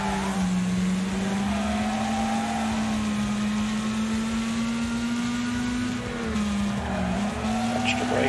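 Racing car in a video game with its engine holding a steady, loud drone that dips briefly as the brakes are touched near the end, tires faintly squealing underneath.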